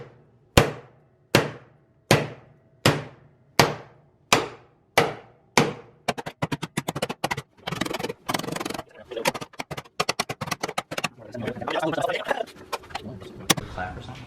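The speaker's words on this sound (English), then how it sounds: "take another hammer. We're just gonna beat it straight." A hammer beats a dented Mazda Miata front fender straight, first with about nine evenly spaced, ringing metal blows, then with a rapid, irregular flurry of sharper clanks and taps.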